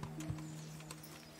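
A horse in the medieval game Kingdom Come: Deliverance gives a short whinny with a hoof clop or two, faint and brief, as it comes to a stop.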